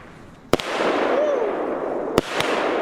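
Light Fire consumer fireworks bought from Biedronka go off close by: a sharp bang, then a sustained fizzing crackle with a faint rising whistle, and two more quick pops near the end.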